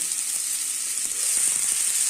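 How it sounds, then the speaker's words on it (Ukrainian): Button mushrooms dry-frying in a pan without oil, a steady close sizzle and hiss with faint crackles, no voices. "Так, смажиться"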